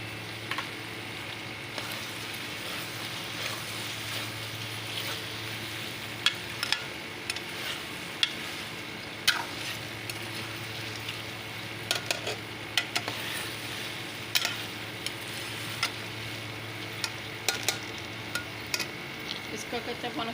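Okra frying in a pan with ginger garlic paste, a steady soft sizzle throughout with occasional light scrapes and clinks of a spoon stirring, close and fairly quiet.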